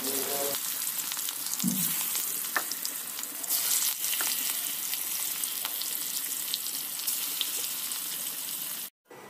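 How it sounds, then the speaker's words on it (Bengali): Pieces of rohu fish fry steadily in hot oil, a loud, continuous sizzle with brief crackles that holds nearly unbroken before cutting out just at the end. "এবার তেলের মধ্যে মাছগুলোকে ভেজে নেব"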